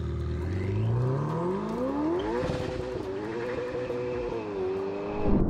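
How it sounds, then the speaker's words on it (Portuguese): A Ferrari 488 GTB with a turbo V8 revs up close, the engine note climbing steeply, easing through a gear change, then holding a high, steady roar before a sharp final surge. "Ferrari 488 GTB"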